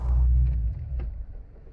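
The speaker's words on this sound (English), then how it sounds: "that old car sounds good though" A car engine rumbles low and steady, loud at first and then easing off slightly, with no voices.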